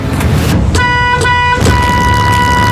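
A school bus horn blares loudly in one long, steady honk that starts partway through and holds to the end, over a rumbling engine.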